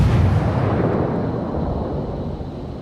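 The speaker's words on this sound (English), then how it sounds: "We're gonna take the shot. Fire." A warship's main guns fire in World of Warships, a deep booming blast that rolls into a long, heavy rumble and slowly fades.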